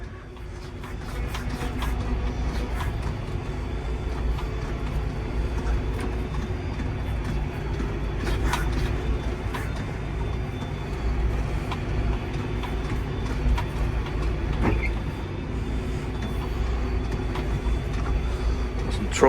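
Convoy of about 55 tractors, with some trucks, filing out of a farmyard onto the road for a charity run, a dense continuous rumble of diesel engines and clattering from nearby, with faint voices mixed in.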